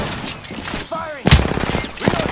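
Gunfire in the Apex Legends video game: a sharp loud shot burst followed by a rapid rattling string of shots, with a brief spoken callout just before.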